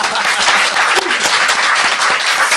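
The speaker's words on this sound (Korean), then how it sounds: "박수 한번 부탁합니다" Dense audience applause in a lecture-style talk show hall, a broad continuous wash of many hands clapping, loud and sustained throughout.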